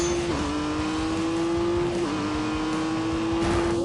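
Honda NSX engine revving, a loud close steady drone with the pitch dipping twice between shifts while road and tire noise rumbles underneath, no voices.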